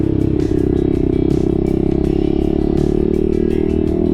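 A motorcycle engine idles loudly and steadily nearby on a mountain ride, its deep rumble and rapid exhaust pulses from the muffler continuing throughout without a break.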